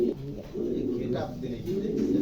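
Pigeons in a loft coo in low, rolling bursts that run steadily and close by, with a murmur of voices and movement underneath.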